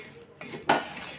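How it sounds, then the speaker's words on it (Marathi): A spoon scrapes and clinks against a pan as grated coconut is dry-roasted and stirred, a few short metallic strokes close by. "असा कलर बदलेपर्यंत खोबरं हलकं भाजून घ्यायचं"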